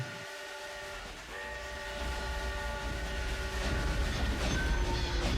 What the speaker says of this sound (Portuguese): Em 1910, exatamente às 3h45, chega o trem.